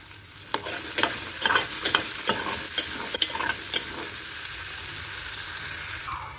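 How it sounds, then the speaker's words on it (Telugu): Chili powder being stirred in a frying pan, a spoon scraping in repeated uneven strokes over a steady sizzle that carries on alone after the stirring stops. "కారం పచ్చివాసన పోయేదాకా జస్ట్ ఒక 2 నిమిషాలు అలా తిప్పి"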